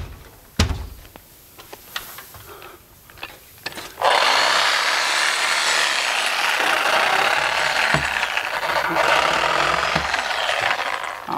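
A Harbor Freight reciprocating saw converted for trimming cuts through spray foam. A few scattered knocks come first, then the saw starts and runs as a loud, continuous, close buzzing grind until the end.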